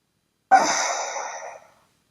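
A single audible breath during a yoga session, a soft airy exhale lasting about a second, close and alone, fading smoothly into silence.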